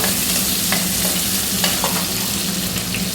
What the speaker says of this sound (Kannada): ಈರುಳ್ಳಿ ಹೆಚ್ಕೊಂಡಿದ್ವಲ್ಲ ಅದನ್ನು ಇದಕ್ಕೆ ಸೇರಿಸೋಣ. ಸ್ವಲ್ಪ ಫ್ರೈ ಆಗಲಿ ಇದು.